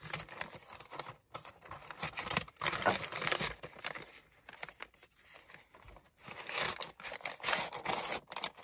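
Hands unwrapping a vintage-style gift taken from a box, with close crinkling and tearing of paper in irregular bursts broken by short pauses, no talking.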